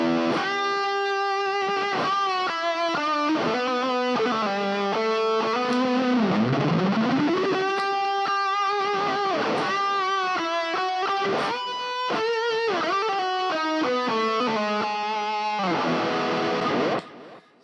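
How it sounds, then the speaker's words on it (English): Electric guitar played through an Ecstasy Red Mini distortion pedal, a sustained lead melody with bends and slides, close and loud, ending abruptly. "the Ecstasy Red is the distortion pedal"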